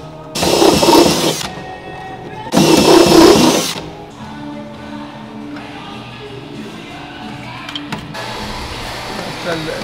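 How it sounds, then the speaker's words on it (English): A power drill boring into a bracket on a 1950 Chevy pickup truck, two loud whirring runs in quick succession followed by quieter clattering work sounds. "I'm gonna drill it right here. Where's the drill?"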